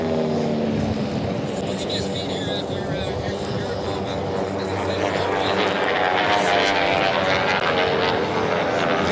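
T-6 racing airplanes roar past at the Reno Air Races, a steady loud propeller-engine drone with shifting pitch as the evenly matched planes race, heard under continuous commentary.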